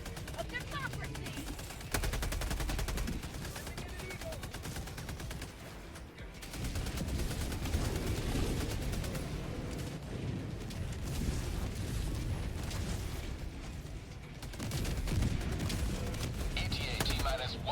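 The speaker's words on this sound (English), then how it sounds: "Orbital barrage incoming." Orbital barrage in the video game Helldivers: dense, continuous explosions and rattling gunfire roar without pause, with booming impacts and voices mixed in under the chaos.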